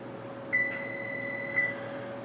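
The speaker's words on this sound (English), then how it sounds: "All right, my oven is ready." An oven signals that preheating is done with two short electronic beeps about a second apart, each held briefly over a low steady hum.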